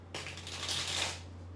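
Tarot cards being shuffled by hand, a close, papery riffling burst that swells and fades over about a second and a half, with a steady low hum running underneath.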